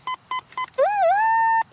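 A metal detector beeps three short times at a target, then holds a longer solid tone that bends and steadies. The signal is close and clear over quiet outdoor background.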